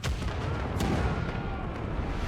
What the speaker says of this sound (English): We should have at least one of the cannons fire or ready, right?